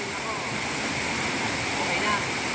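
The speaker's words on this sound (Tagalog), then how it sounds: "yan yung talon po" Waterfall at Baler, Aurora, a steady broadband roar of falling water that stays loud and unbroken throughout, close to the listener.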